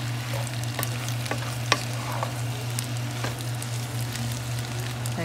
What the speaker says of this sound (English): It's still sizzling, but the heat is off.